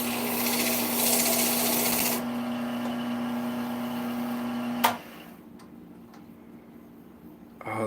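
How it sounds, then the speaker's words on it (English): Sandpaper rubbing a wooden ornament spinning on a woodturning lathe, a steady hissing rasp over the motor's hum that stops abruptly midway, leaving faint ticks in near quiet. "It's going a little bit too fast for sanding."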